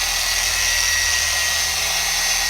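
Adam's Swirl Killer Mini polisher on its lowest speed setting gives a steady, close whine with a low motor hum, running continuously and alone.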